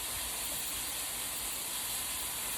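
Mushrooms cooking in bacon fat in a pan give off a steady, bright hiss that stays constant and close throughout, with no talking.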